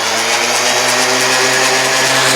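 A loud, continuous electric sander whirs steadily on a maple butcher block with a dense, gritty hiss, close up and unbroken throughout.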